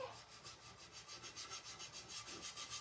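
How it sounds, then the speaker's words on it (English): Steady back-and-forth sanding on the middle of a wooden stencil piece, a close, even rhythmic rasping of abrasive on wood that runs continuously without talk. "And then I will give that middle a good sanding."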